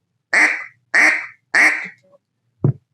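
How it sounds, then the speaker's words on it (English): Three evenly spaced, loud, nasal quacks are blown on a handheld duck call, each bright and sharply cut off, followed by a brief softer note and one short low blast at the end, close and alone. "the quack is the basis of getting started on learn how to blow a duck call"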